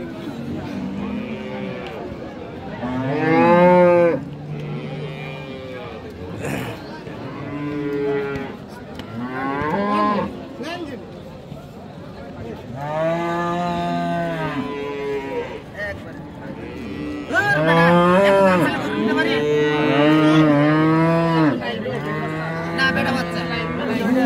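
Friesian cows with calves at a cattle market in Tangail bellow in loud, drawn-out moos, several animals calling one after another and overlapping close by over a low crowd murmur.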